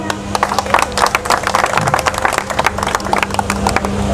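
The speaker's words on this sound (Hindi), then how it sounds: "जोरदार तालियां" A crowd at a rally or protest meeting applauds loudly, a continuous dense patter of many hands lasting several seconds, with no speech over it.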